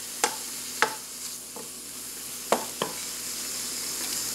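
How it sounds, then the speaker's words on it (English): Sliced mushrooms and onions sautéing in a frying pan, a soft continuous sizzle broken by a handful of sharp spoon scrapes and taps as the mixture is stirred. "you just want to stir this around occasionally while it's sautéing"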